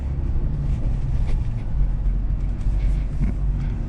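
GWM Poer pickup ute driving off-road through sand, a steady loud engine drone with broadband rumble and rustle throughout, no talk.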